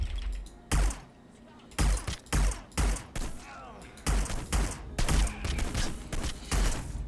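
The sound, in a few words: gunshots in the video game Hitman Blood Money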